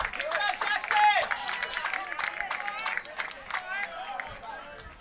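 Applause and cheering from a small crowd at a high school varsity baseball game between Novato and Tam High, with scattered claps and whoops, fairly close, under a voice talking.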